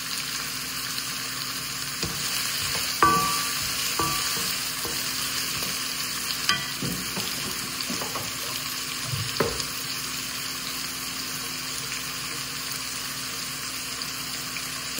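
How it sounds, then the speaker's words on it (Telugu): Tomatoes and curry leaves fry in a pan with a constant crackling sizzle, punctuated by a few sharp taps and stirring clatters, close and steady without speech. "ఇవి మంచిగా ఫ్రై చేసుకోవాలి గోల్డెన్ బ్రౌన్ కలర్ వచ్చేంత వరకు"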